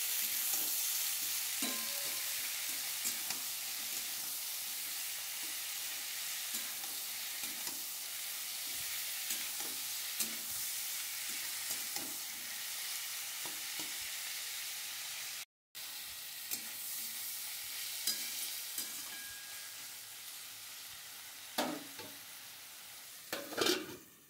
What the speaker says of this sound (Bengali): এখন আলুর সাথে পেঁয়াজ আর টমেটোটা বেশ ভালো করে ভাজা ভাজা করে নেব